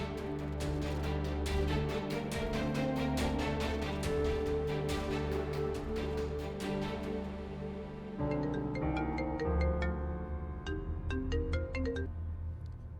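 An electronic phone ringtone plays a repeating melodic pattern, loud and close, changing to a sparser phrase partway through.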